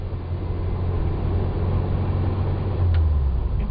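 A classic Type 1 VW Beetle engine with a Gene Berg gear shift fitted, running as the car shifts down through the gears: a steady low rumble that briefly swells near the end, close and alone.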